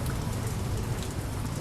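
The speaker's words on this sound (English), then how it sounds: "the rain hits the visor" Rain hits a visor in a steady, close patter of dense droplets, a continuous wash with no voices.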